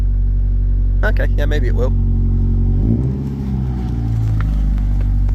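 A 1998 Toyota Celica GT engine idles around 1700 RPM with a low steady rumble that dips and wavers midway, while someone speaks briefly over it; the exhaust rattle is not distinct.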